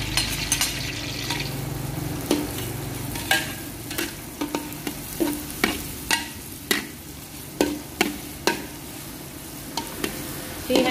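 Thinly sliced, minced shallots fry in oil in a pan, a constant sizzle broken by repeated sharp clacks of stirring at an uneven rhythm, close and clear with no talking.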